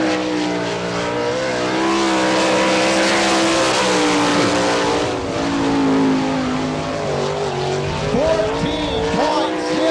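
A winged sprint race car laps a dirt oval at about 117 miles an hour during All Stars time trials in Wichita, Kansas, its engine a loud sustained roar that rises and falls through the turns with a public-address announcer talking over it.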